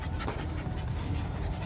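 A three-month-old Rottweiler puppy panting close to the microphone, quick rhythmic breaths repeating steadily and softly with no talking.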